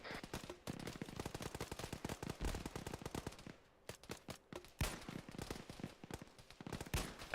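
Machine gun fire in a military video game comes as rapid, fairly distant bursts of shots that rattle steadily, pause for a moment partway through, then return in scattered volleys.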